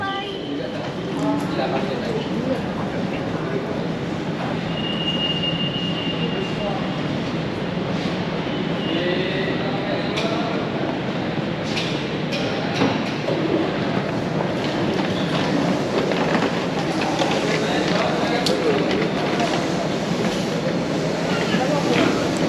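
An airport train in Jakarta, Indonesia rolls along with a steady rumble and faint wheel clatter and squeal from inside the carriage, while someone talks over it throughout.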